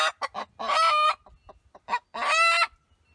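A hen sitting on her nest clucks and squawks close by in a string of short calls and two longer, drawn-out cries, with brief pauses between them.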